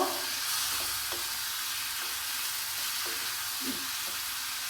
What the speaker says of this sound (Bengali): এবার আমি দিয়ে দিচ্ছি, এখানে নিয়েছি আমি 250 গ্রাম চিকেন নিয়েছি।